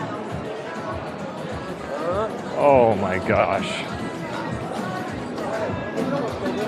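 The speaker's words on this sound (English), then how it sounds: "I can hear the fountain and this crowd of tourists." Crowd of tourists milling in a busy Italian village alleyway near a fountain, a steady babble of voices and footsteps, with a nearby speaker exclaiming over the hubbub.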